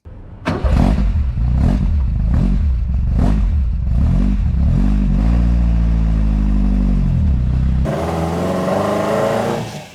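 A restored Supercars track car engine runs at low revs, a loud, close, uneven throb with rhythmic pulses that gives way to a steadier rumble and then a brief higher-pitched shift near the end.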